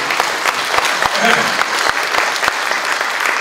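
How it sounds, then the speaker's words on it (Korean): Audience at a Korean community council launch meeting in eastern Canada applauds steadily throughout, a dense crowd clapping, with some voices mixed in. "그 말씀에 동의한다는 뜻으로 박수 한번 중간에 주세요"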